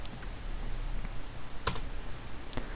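Computer keyboard keys pressed in a few sparse, crisp clicks against a quiet room hiss, close and faint, with no talk.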